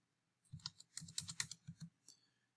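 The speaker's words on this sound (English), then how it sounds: "I can also just type in a value" Quick typing on a computer keyboard while entering a value, a short burst of about a dozen soft key clicks close by and quiet, alone without speech.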